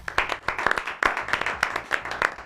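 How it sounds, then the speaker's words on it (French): Sparse clapping from a small group during a talk show, sharp individual claps at an uneven rhythm, close and moderately loud, with no voices over it. "Un tonnerre d'applaudissements, je vous en prie."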